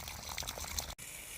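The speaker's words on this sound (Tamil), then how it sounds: "நம்ம வயலில் இன்றைக்கி மாஞ்செடிக்கு தண்ணி பாய்க்கிறது தாங்க வேலை." Water flowing into a field to irrigate mango plants, a soft continuous gurgling pour with brief splashy bubbles, heard alone and cut by a sudden short gap before resuming.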